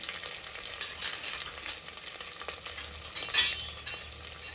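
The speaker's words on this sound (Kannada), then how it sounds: "ಈರುಳ್ಳಿ ಸ್ವಲ್ಪ ಫ್ರೈ ಆಗಲಿ" Onion frying in a pan with ginger garlic paste, a steady broad sizzle with occasional stirring scrapes, close and continuous with no talking, made for a traditional village-style egg and chicken sambar with avarekalu beans.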